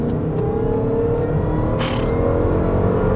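A supercharged 4.2-litre V8 Range Rover L322 accelerates flat-out in second gear from 30 mph, a loud, continuous engine roar with a rising supercharger whine.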